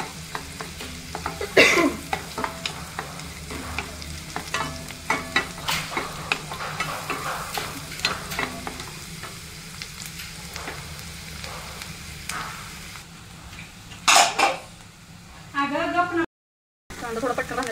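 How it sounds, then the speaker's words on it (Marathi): Onion sautéing in a pan for pav bhaji, a steady close sizzle broken by clattering stirs and scrapes of a spoon, with a voice speaking over parts of it. "चांगला गोल्डन ब्राऊन होईपर्यंत परतून घ्यायचं."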